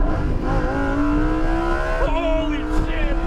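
A Lamborghini Huracan accelerates hard on a racetrack, its engine note climbing steadily in pitch, loud and close, then briefly dropping and rising again as it shifts. A voice talks over the engine.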